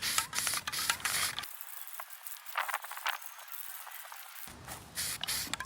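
Aerosol spray paint hissing onto VW Type 3 steering tie rods for a 1967 Squareback, a steady close hiss running for about three seconds between quieter stretches of handling noise.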